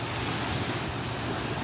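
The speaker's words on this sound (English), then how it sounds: "Bro, look at the waves." Ocean waves wash around a boat sitting on a sandbank off the Gold Coast, a steady broadband rush of surf with wind buffeting the microphone and no voices.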